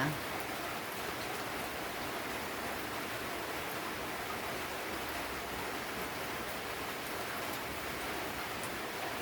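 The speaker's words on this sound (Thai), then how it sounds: "ฝนตกพี่น้องฝนตกจังห่า" Steady rain falls continuously, a dense even hiss of drops with no pauses, moderately loud throughout.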